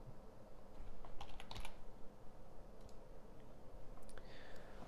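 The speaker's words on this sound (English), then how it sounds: "I'll just type in user and find my data interface here." Computer keyboard typing with scattered bursts of quick key clicks over a steady low background hum, fairly soft and close, with no voices.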